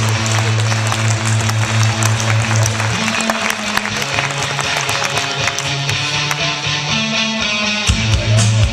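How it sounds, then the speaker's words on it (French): A festival audience applauds chef Kobe Desramaults of In de Wulf with steady, dense clapping that runs throughout, loud and close, over a low sustained tonal hum. "Je vous demande d'applaudir, s'il vous plaît, Comme des Rameaux."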